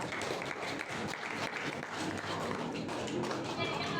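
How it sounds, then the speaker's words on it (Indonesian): Students in a classroom clap for two classmates, a steady dense patter of many hands lasting throughout, with voices talking over it. "tepuk tangan untuk Nisa dan Dani Bapak"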